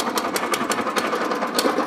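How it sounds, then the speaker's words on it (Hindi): A small power weeder engine runs steadily on a farm, a loud, rapid mechanical chatter with a regular pulsing beat, alone without voices. "ये जो आप पावर वीडर देख सकते हैं"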